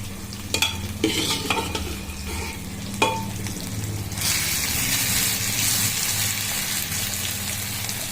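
Boiled sorghum being stirred into sorghum khichdi frying in a pan, with several sharp clacks and scrapes of a spoon, then a loud, steady gushing sizzle as the grains go in and cook.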